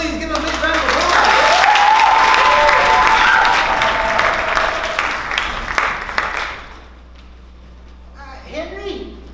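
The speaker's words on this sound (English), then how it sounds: "please give them a big round of applause." Audience at a class show bursts into loud sustained applause and clapping that tapers off after several seconds, then fades to quiet with a few scattered sounds.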